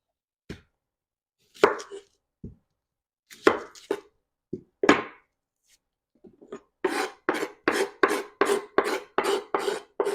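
A knife chops onion and garlic on a cutting board for adobo sa gata. A few scattered strokes come first, then a fast, even run of close, crisp chops, with no talking.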